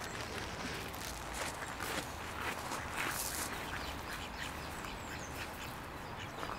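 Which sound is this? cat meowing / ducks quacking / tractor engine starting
ducks quacking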